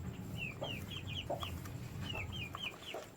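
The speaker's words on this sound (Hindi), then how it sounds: "ये है जी माशाल्लाह सबसे जो लंबे वाला मुर्गा हमारे पास वो ये है" A tall Thai Shamo Aseel rooster, kept as a home breed, gives a run of short, high clucking chirps in quick pairs and groups, close by, over a steady low background murmur.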